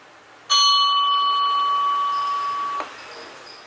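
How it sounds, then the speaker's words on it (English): A single electronic gong bell from an Ahuja SBELL-8012 amplifier through a horn speaker rings out as one loud struck tone. It holds for about two seconds, then cuts off into a brief fading tail. "These are single gong bells."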